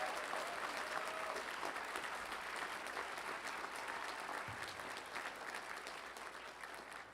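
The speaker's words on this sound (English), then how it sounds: "Let's give the 10 PhDs a round of applause." An audience at a spring university graduation ceremony applauds steadily for the ten graduating PhDs, a dense wash of clapping that continues throughout and tapers slightly toward the end.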